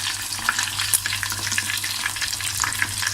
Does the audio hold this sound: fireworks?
no